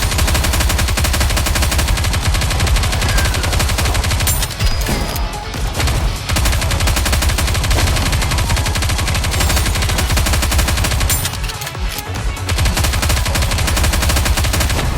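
Dense, sustained automatic gunfire in the video game Goddess of Victory: Nikke, loud continuous rattling bursts filling the whole stretch with only brief dips around the middle and near the end.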